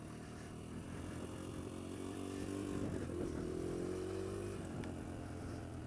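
Kawasaki KLX140L dirt bike ridden down a steep, slippery hill, its small engine droning steadily with a gently rising and falling tone over a constant rumble.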